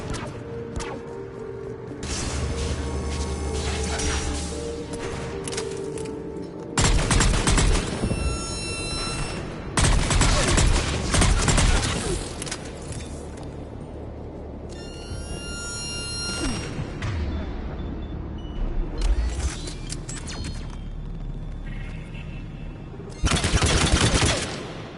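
Gunfire in the video game Mass Effect 3 during a sniper fight comes in loud, repeated bursts of shots and booms separated by quieter stretches of rumbling background.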